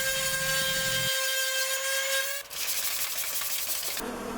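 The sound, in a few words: sanding paint off a routered wooden sign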